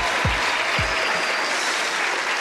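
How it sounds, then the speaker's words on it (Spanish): Studio audience applauding a volunteer from the crowd on a Colombian TV comedy show, steady dense clapping throughout with a couple of low thumps near the start. "Un aplauso que vamos a hacer."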